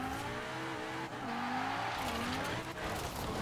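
A Lamborghini V8-sounding engine in Forza Horizon 4 drones steadily with rising and falling revs and shifting pitch, tires briefly squealing, continuous and close without any talking.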